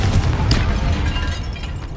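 Confringo fire spell exploding in the Hogwarts Legacy video game, a loud low boom with a rumbling tail that stays heavy and sustained for about two seconds, with no talk over it.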